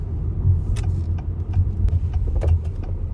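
A car's engine idles while someone sits inside, a steady low rumble with a few faint clicks and rustles on top.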